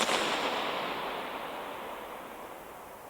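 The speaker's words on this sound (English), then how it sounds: "if I just play you the bang, you can hear the acoustics of the space" A sampled bang recorded in 24-bit inside the Teufelsberg dome bursts loudly, then rings out as a long, bright reverberant wash that slowly fades over several seconds, heard alone.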